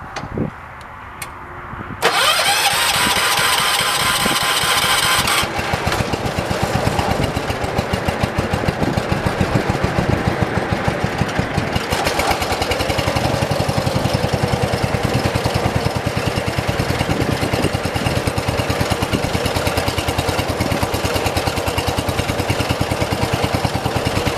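A 1977 John Deere 212 lawn tractor engine that had sat for four months cranks over, catches and then runs steadily at a loud, close, continuous rumble for the rest of the stretch, with no talk.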